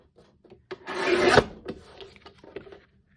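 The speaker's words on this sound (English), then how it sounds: "So let's trim this up on this side." Paper edges of a recycled-paper collage being trimmed, a dry rasping scrape that swells to a loud close stroke, then a few softer scratchy rubs.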